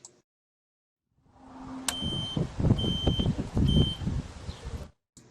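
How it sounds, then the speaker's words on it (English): The remote control of a 2019 Easy Lift 70-36AJ lift emits a few short, thin beeps that repeat over a low mechanical rumble, ending abruptly. "You should hear a beep."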